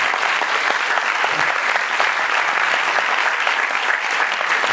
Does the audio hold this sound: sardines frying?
no